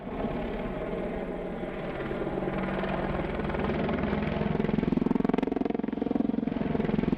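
An AH-64 helicopter drones with a heavy, continuous rotor throb that grows slightly louder and closer over several seconds, the blade beat pulsing rapidly under a broad roar, with no voices.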